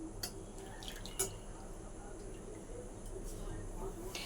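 Soaked lentils are rinsed in water, a faint continuous wash with light splashes and drips running quietly throughout.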